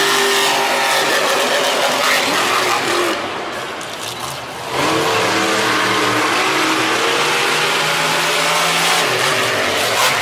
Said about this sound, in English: Next up here we have Bad Company and John Gordon taking on Mark Hall in Raminator.